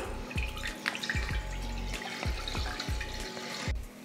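Roasted sago pearls get washed under a running kitchen tap, with water splashing and dripping in a repeated uneven rhythm close by, fairly quiet and with no voices.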